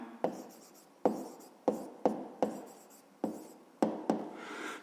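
Pen or chalk taps and scratches out an equation by hand in a quiet room, with eight sharp strokes at uneven intervals, each starting with a crisp attack and fading into a brief scratchy trail.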